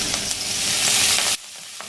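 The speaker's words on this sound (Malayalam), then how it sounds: "ഓയിൽ ചൂടാവുന്ന സമയത്ത് ഇതിലേക്ക് ഒരു 2-3 വെളുത്തുള്ളി ചെറുതായി അരിഞ്ഞത്" Chopped garlic, ginger and green chilli hit hot oil with a loud, dense sizzle that holds steady, then drops off abruptly to a quieter hiss after just over a second.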